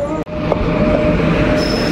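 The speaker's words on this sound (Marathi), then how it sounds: "आमची ट्रेन आलेली आहे." The Konkan Kanya Express pulls into a station at night, a loud, steady rail rumble with a faint metallic whine running throughout, close by.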